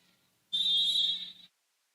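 A referee's whistle at a college volleyball match, a single loud, sustained shrill blast lasting about a second, heard alone.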